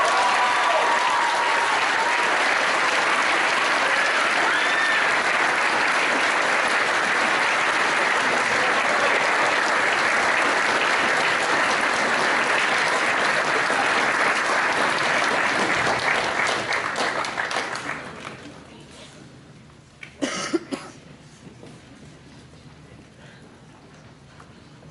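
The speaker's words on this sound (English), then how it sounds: "So a round of applause for our student leaders." Audience applause for student leaders at a senior prize-giving evening, a dense, steady wash of many hands clapping for about eighteen seconds before fading out, followed by a few faint scattered sounds.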